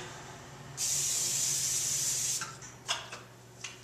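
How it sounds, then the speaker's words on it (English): A steady aerosol hiss of cooking spray sprayed into a pan, lasting under two seconds, followed by a few soft clicks and taps nearby. "I'm gonna start with putting some cooking spray"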